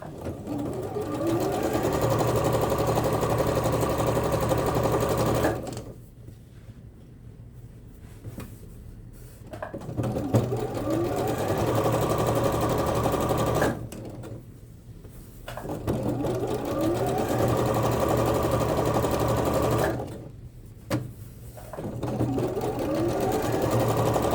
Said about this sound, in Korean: 바로 박음질 할게요.